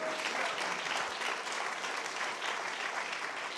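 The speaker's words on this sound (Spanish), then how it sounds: "Dele palmas al Señor de la gloria." A church congregation claps together during a sermon, a dense, steady wash of applause from many hands filling the room without pause for several seconds.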